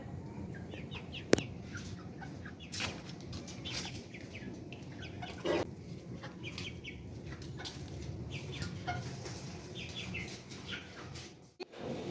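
Chickens cluck and chirp softly, with a few sharp calls, a faint rustle, and a dull thump near the end.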